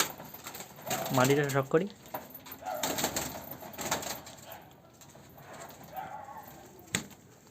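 Pigeons coo in short throaty bursts close by in a home loft, with someone talking in Bengali over and between the calls and occasional handling sounds.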